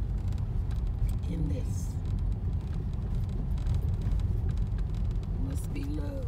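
A car drives along a road on a rainy, miserable day, its steady engine and road rumble filling the background while people talk inside.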